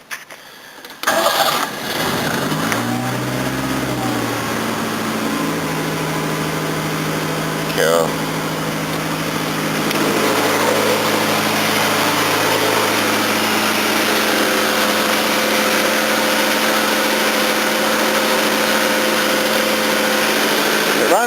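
A Datsun's engine cranks and catches with a rough burst, then settles into a steady idle despite a blowing head gasket, running on under a brief spoken word.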